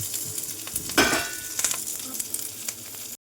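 Pieces of nalleru, veld grape, are stirred in a frying pan, giving a soft sizzle under scraping strokes of a spoon against the pan, with a louder scrape about a second in.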